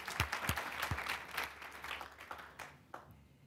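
An audience claps at a school district superintendent's presentation, a brief burst of scattered hand claps that thins out and fades over a few seconds, heard fairly faintly in a large room.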